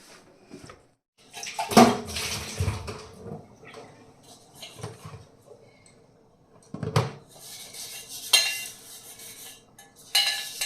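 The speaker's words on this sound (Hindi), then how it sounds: "यहाँ से करते हैं क्लीन और फटाफट बर्तन साफ़ कर लेती हूँ मैं।" Dishes being washed by hand under running water in a home kitchen, with clinking pots, plates and cutlery against a steady flow of water, in irregular bursts of clatter.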